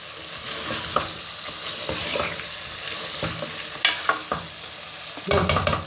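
Mutton and cauliflower curry sizzles in a pan while being stirred and fried, with scraping spoon strokes and clinks against the vessel, close and continuous with no talking.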